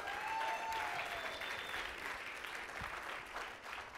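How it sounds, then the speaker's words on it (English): An audience at a sales talk claps in steady, sustained applause throughout, a dense even wash of many hands with a faint whistle-like tone early on, with no one speaking over it. "Give her a round of applause"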